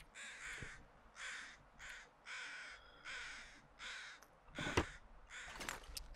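Crows cawing in The Long Dark, a string of harsh, evenly spaced caws repeating about every half second to a second, fairly close and loud, with a few sharper clicks near the end and no talking.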